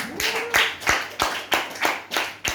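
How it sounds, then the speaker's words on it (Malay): Audience clapping in a small gathering: about eight evenly spaced, crisp claps in a slow, steady rhythm, close and clear, with no other sound between them. "Kita tepukan lagi untuk Helmi."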